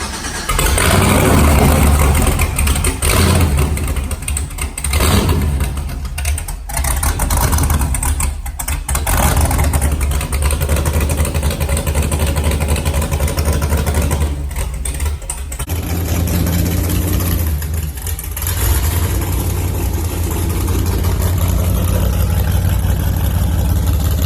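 A turbocharged LS V8 swapped into a BMW E36 cranks and fires, then settles into a loud, rough idle with a few blips of throttle. It runs close and strong for the whole stretch, and nobody talks over it.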